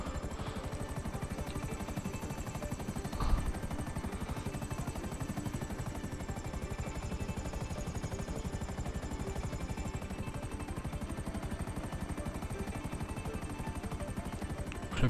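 A Buzzard helicopter in a GTA game sets down for landing, its rotor chop a steady, dense drone throughout, with one brief thump early on.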